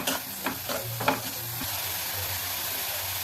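Sprouted green gram for a palya stir-fries in oil, a steady close sizzle with a few scraping stirs of the spoon early on, then an even frying hiss.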